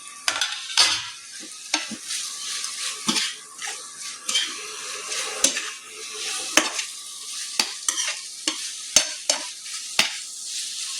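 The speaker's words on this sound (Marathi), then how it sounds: "सो आतां प्राउन्स घातला मिक्स करता" Chopped prawns with spices stirred in a hot pan, a continuous sizzle broken by repeated sharp scrapes and clinks of the spoon against the pan, close and fairly loud with no talk.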